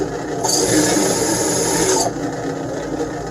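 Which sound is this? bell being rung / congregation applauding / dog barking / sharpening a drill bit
sharpening a drill bit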